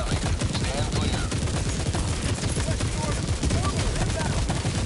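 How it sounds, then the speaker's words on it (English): Orbital barrage in Helldivers II, a dense, relentless roar of overlapping explosions and gunfire rumbling loudly and continuously throughout with no break. "Orbital barrage incoming. Stand clear."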